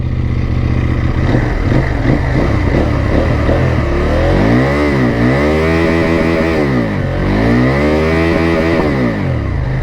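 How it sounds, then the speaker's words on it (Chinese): CFmoto 800NK motorcycle engine running loud and close, a dense steady exhaust rumble with rising and falling rev sweeps partway through, no voices. "原地怠速没有什么特别明显的震动感啊，通过后视镜你们可以看到。"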